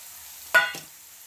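Eggs in hot oil give a short sizzling crackle as they are stirred, two quick bursts of spatter close by, then near silence.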